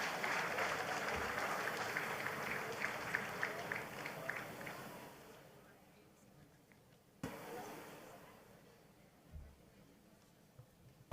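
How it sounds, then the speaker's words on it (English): Applause from an audience at a National Heroes Day awards ceremony, a dense wash of clapping that gradually thins and fades over about five seconds, followed by quieter room sound with a couple of soft thumps. "A loud applause there for Dr."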